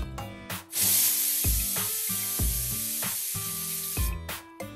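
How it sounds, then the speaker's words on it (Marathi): A pressure cooker cooking Maharashtrian masale bhaat hisses loudly with steam and whistles in a steady, sustained blast, its tone wavering and pulsing throughout, with no one talking. "याचे कुकरचे झाकण लावून घेऊयात आणि याच्या आपल्याला 3 ते 4 शिट्ट्या करून घ्यायच्या आहेत"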